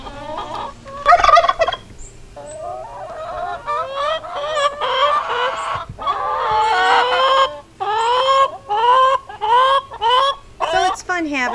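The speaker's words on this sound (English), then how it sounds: "They walk back and forth because I have them separated with the chickens." Chickens and turkeys kept in a backyard pen with a garden make a busy run of loud clucks and gobbling calls, close and overlapping in quick bursts almost without pause.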